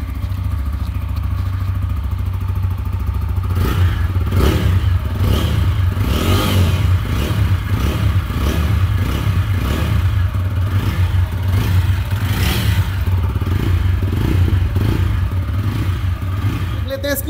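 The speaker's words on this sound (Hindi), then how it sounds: "पहले एग्जॉस्ट नोट सुन लो, दिल थाम कर बैठो, बहुत जबरदस्त एग्जॉस्ट नोट है इसकी।" A TVS Apache RTR 160 4V motorcycle's exhaust note, loud and close, with repeated revs that rise and fall over a steady idle, under some clatter and background noise.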